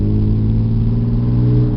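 A 1985 Pontiac Fiero GT with a new MagnaFlow exhaust, heard from inside the car, gives a steady low droning engine note that stays even and fairly loud through the short stretch.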